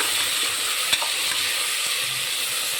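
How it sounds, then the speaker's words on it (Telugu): Vegetables with curry leaves frying for a mixed vegetable kurma, a steady close sizzle throughout with a single sharp clink of a spatula near the start. "బాగా ఫ్రై చేసుకోవాలి"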